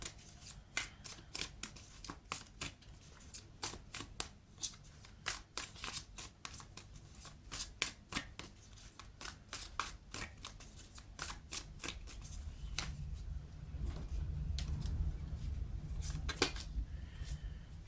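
A tarot deck being shuffled and cards drawn, giving a steady run of quick papery snaps and flicks that crowd together, then a softer rustling stretch with denser low handling noise near the end; no voice is heard.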